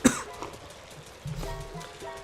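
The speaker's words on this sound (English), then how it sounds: "I went into a coughing fit there." A single sharp cough bursts out at the start, then fainter throat sounds and a low hum from game audio, quiet and close.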